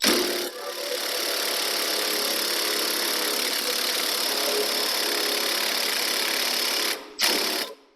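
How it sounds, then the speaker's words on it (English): Pneumatic impact wrench hammering on a Ford shock absorber nut while the shaft is clamped with vice grips, a loud, steady buzzing rattle running nearly eight seconds with a brief pause and restart at the end. "I'm going to hold these as I now try and impact that nut off."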